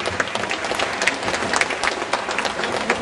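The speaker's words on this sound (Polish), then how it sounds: "Gorące brawa" Steady, dense applause from an audience at a dance competition final fills the whole stretch, with many hands clapping evenly and no voices standing out.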